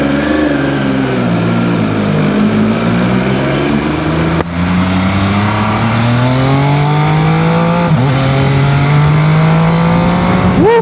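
An MV Agusta Superveloce 800 sportbike accelerates hard and loud, its engine pitch climbing through the gears with quick auto-blip shifts breaking the rising drone, close throughout.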